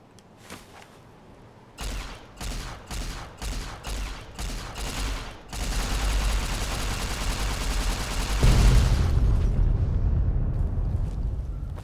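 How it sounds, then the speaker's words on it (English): Sniper rifle shots in Fallout New Vegas, Lonesome Road DLC: a run of about six sharp, evenly spaced gunshots rings out loudly, followed by a long, dense roar of sustained firing and rumbling combat noise. "I'll keep shooting him with the sniper."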